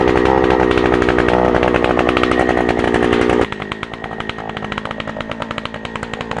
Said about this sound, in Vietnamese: Rồi bây giờ chúng ta sẽ đi khoan thử.